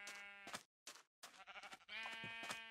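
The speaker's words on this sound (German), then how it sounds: "Hier gibt es auf jeden Fall auch genügend Schafe." Sheep in the video game Minecraft bleat close and clear, with several wavering calls in quick succession separated by short silent gaps.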